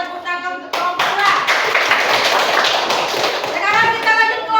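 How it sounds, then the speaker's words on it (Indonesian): A group in a classroom setting applauds after a student group's presentation during a teacher-training teaching exam: dense, steady clapping for about three and a half seconds, with voices heard before and after it. "Kita tepuk tangan untuk kelompok 2."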